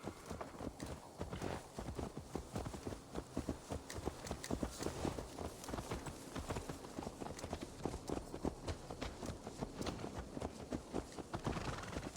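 Horse hooves clip-clopping in Assassin's Creed Valhalla, continuously at a steady walking rhythm, close and moderately loud for the whole stretch.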